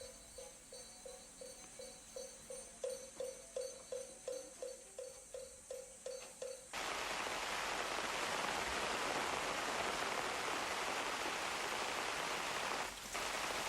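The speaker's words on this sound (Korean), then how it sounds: "소낙비가 내리는 산중 암자는 더욱 고요해지니 유독 굵은 빗소리만 산사를 울린다." A heavy shower pours down on a mountain hermitage, arriving as a sudden loud, dense rush of rain after a run of regular rhythmic knocks, then hissing steadily without speech.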